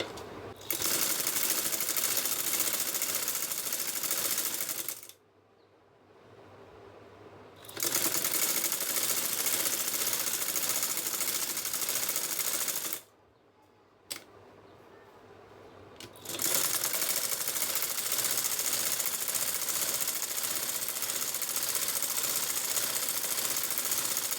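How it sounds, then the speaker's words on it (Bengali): A sewing machine stitches the sleeve of a four-piece kameez in long continuous runs, stopping twice briefly before starting again, close and steady with no talking. "এখন আমি উপর থেকে মুহুরি পর্যন্ত সেলাই করবো"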